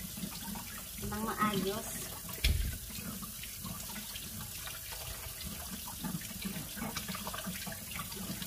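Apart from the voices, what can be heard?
bell peppers washed under running tap water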